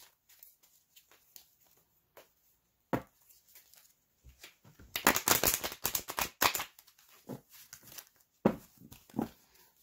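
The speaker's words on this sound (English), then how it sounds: "2 more shuffles." Tarot cards shuffled by hand close to the microphone, a run of dense riffling bursts in the middle between sparser taps and soft card slaps, with no talking.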